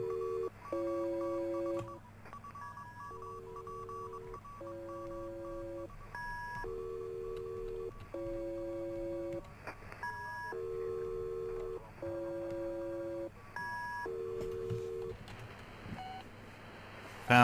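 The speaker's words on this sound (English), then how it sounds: "Looking for something that sounds like an old-fashioned telephone signal." An old-fashioned telephone signal in the video game Antenna, with repeating pairs of electronic tones in a steady rhythmic pattern over a faint hum, heard alone at low level.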